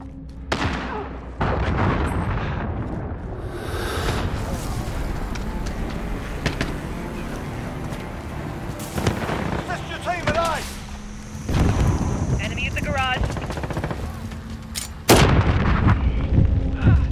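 Cruise missile strikes in Call of Duty: Modern Warfare produce repeated heavy booms and rumbling blasts mixed with scattered gunfire, while voices speak over the battlefield din.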